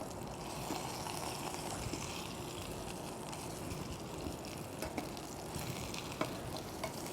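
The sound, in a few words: meatballs searing in a frying pan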